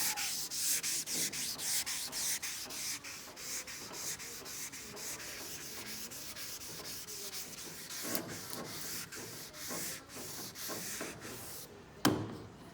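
Wet sanding car primer with 600 grit sandpaper on a 1959 El Camino, a close, steady rhythmic rubbing scrape of paper stroking back and forth over the panel, continuing without pause until a brief knock near the end.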